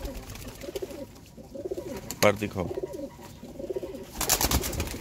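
Pet Teddy pigeons coo in low, repeated rounds close by, partly under a voice, with a flutter of noise toward the end.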